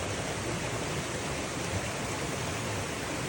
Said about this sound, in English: Little water still draining into it.